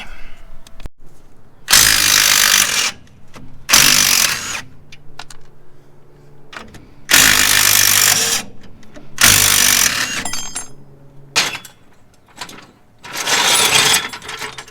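A ratcheting wrench removes nuts from the rear leaf spring shackle of a barn-find VW Rabbit pickup left sitting for 25 years, giving five loud, close bursts of rapid clicking separated by short pauses, with no talking.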